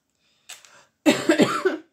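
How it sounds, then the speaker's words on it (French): A woman coughs in a short burst: a faint first cough, a brief pause, then a louder cluster of harsh coughs, close to the listener with no talk over it. "excusez-moi si je tousse"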